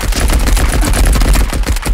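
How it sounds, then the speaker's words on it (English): Rapid, loud bursts of gunfire crackle continuously, dense and close, like automatic weapons firing in quick succession, in the video game Escape from Tarkov. "God, the gunshots are so loud."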